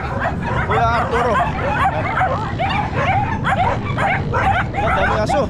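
Many dogs barking together outdoors, a dense, continuous chorus of overlapping barks and yips, loud and close, with faint voices mixed underneath.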